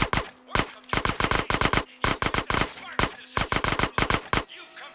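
GTA San Andreas gunfire plays as sharp, loud bursts of rapid shots in short clusters, with brief gaps between the volleys.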